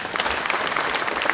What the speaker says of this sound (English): A very good clap for sister.